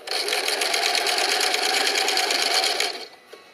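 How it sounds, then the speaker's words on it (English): A sewing machine runs a steady rapid stitch along a fabric edge for about three seconds, close and loud, then stops, with no talking. "So we'll go back to the sewing machine, and I'm going to lower the presser foot"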